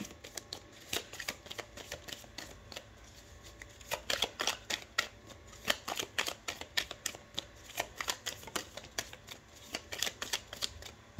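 Tarot cards are shuffled and drawn for a thirteen-card reading, giving a close run of crisp riffling clicks and soft flicks in uneven bursts with no talking.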